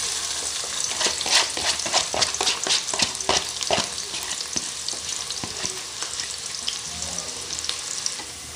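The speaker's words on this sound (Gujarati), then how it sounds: "આપણું તેલ ગરમ થઈ ગયું છે। આપણે એમાં ડુંગળી નાખી દઈશું।" Chopped onion sizzles and crackles in hot oil for a village-style chicken pulao, a close, steady frying hiss broken by frequent sharp pops and spoon scrapes, with no talking.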